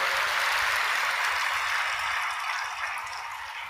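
A church congregation claps loudly during a service, a dense and steady wash of many hands that runs without a break and eases slightly toward the end.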